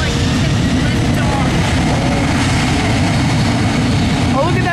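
Jet airliner engines at a busy airport, a steady broad roar and low rumble running continuously without breaks, with voices faintly present beneath.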